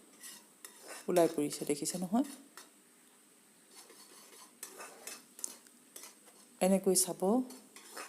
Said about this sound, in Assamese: একে লেঠাৰিয়ে লৰাই থাকিব।